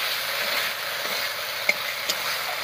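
Potatoes with spices sizzle steadily in hot oil for a vegetarian young jackfruit curry, with a couple of faint clicks of stirring over the continuous frying hiss; no voices.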